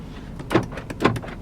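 Power door locks on a 2016 Chevrolet Suburban LT clack twice, two sharp mechanical thunks about half a second apart, close up inside the cabin.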